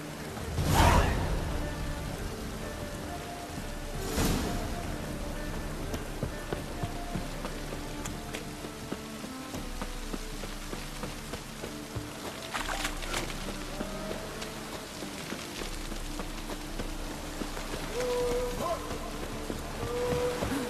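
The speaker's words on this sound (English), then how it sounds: "It's raining again." Steady rain falls throughout, a dense continuous patter with a few louder splashes and swishes mixed in, with no one talking.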